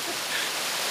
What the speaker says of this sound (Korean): 높이 약 5m에서 낙하하는 폭포수는 얼음장 같은 차가움과 뭉친 혀를 풀어주는 통쾌함을 안기는데요